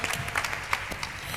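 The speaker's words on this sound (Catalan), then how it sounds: "Un aplaudiment!" Audience applause fills the room in a brief, steady wash of many hands clapping at moderate loudness, heard alone.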